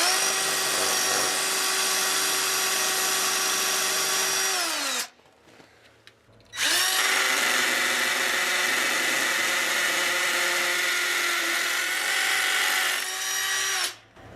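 A power drill with a larger, worn bit whines loudly and steadily during drilling for garage shelves, stops briefly, then starts again for a second long run before winding down.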